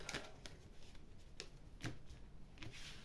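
Tarot cards riffle and slap together in short, crisp bursts during a cut and shuffle, close and fairly quiet with brief pauses between.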